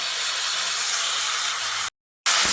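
Ground mustard, chili and garlic paste added to a hot pan of potatoes for a Bengali fish curry, giving a steady loud sizzling hiss that cuts out abruptly near the end, then resumes.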